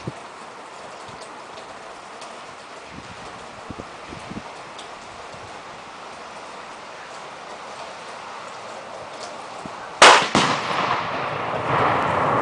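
Tannerite target exploding after being shot outdoors, a single sharp loud blast near the end after a long stretch of quiet outdoor ambience, followed by a brief rumbling tail.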